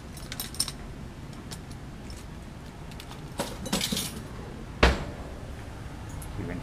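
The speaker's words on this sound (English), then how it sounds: "reach in there with one of these small glass stirring rods, kind of scrape that material off the sides." A small glass stirring rod scrapes and knocks inside glassware holding crystallized tryptamine, giving scattered faint clinks and scrapes and one sharp louder tap near the end, with no talk.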